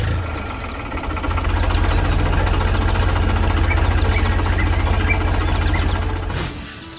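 Tractor engine running on a farm in an animation, a loud, steady low rumble with a rhythmic knocking throb that holds evenly before easing off near the end.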